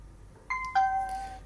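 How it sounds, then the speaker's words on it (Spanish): A Tronsmart Force Bluetooth speaker gives its power-on chime: two bright, clear ding tones a quarter second apart. The second tone rings on and fades slowly against a quiet room. "Vamos a encenderlo y vemos cómo es la vinculación."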